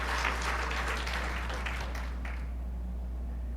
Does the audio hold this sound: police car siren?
no